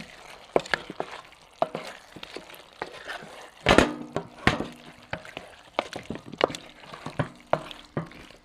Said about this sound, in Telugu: కారం వేసుకొని అయితే ఒకసారి మంచిగా కలుపుకోవాలి